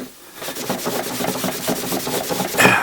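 Rhythmic rubbing strokes abrading paint off a gun's trigger guard for a worn vintage look, steady back-and-forth scraping about four per second, close and constant, without talk.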